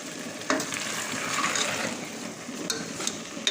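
Grated carrot halwa frying in ghee over high heat, a close, steady crackling sizzle with occasional sharp clicks of a spoon stirring against the pan, no talk.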